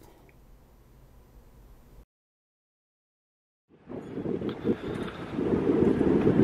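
Strong wind buffeting a camera microphone at a harbor at night as a typhoon approaches: a low, quiet rumble, a sudden cut to silence, then loud gusting roar swelling back in, with no talking.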